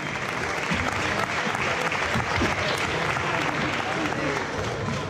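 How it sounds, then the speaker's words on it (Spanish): Audience applause at a Spanish-language freestyle rap battle tournament, steady dense clapping and crowd noise with voices talking and shouting over it throughout. "¡Aplauso, gente!"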